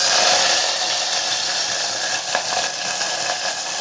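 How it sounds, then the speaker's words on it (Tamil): Mustard seeds sizzling in a hot pan while rasam is being cooked, a loud continuous hiss and crackle at close range with a few small pops. "இப்போ சட்டி காஞ்சிருச்சு கொஞ்சம் கடுகு போட்டுக்கலாம்"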